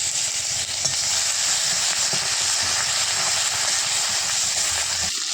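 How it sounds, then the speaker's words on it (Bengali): Dried red chillies, bay leaves, cumin and crushed garlic frying in hot oil over melted sugar, a steady close sizzle and hiss with occasional stirring scrapes and no talk. "এবারে শুকনো লঙ্কা, তেজপাতা, জিরে দেব, দিয়ে ভালো করে একটু ভেজে নেব"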